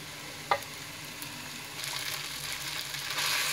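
Korat noodles stir-fried with vegetables in a pan, a low sizzle with a single sharp clank early on, then the frying grows louder and hissier as stirring continues.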